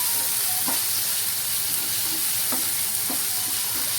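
Finely chopped large tomato sautéing with browned onions in a pan for a paneer sandwich masala, a constant close hissing sizzle with occasional stirring scrapes of a spoon.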